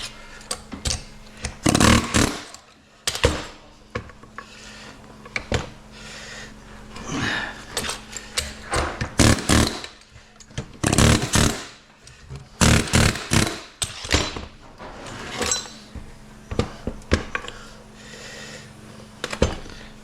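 A power tool cuts around the rolled-over metal casing of an electric motor held in a vise, producing loud, harsh, irregular bursts that start and stop repeatedly with short gaps between them.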